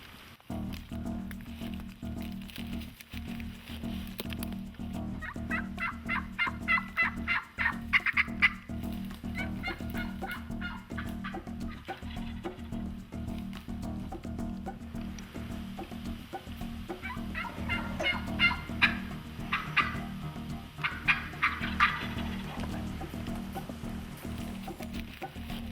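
Wild turkeys gobbling in spring woods, repeated rattling gobbles in two bursts at moderate distance over a steady low background hum.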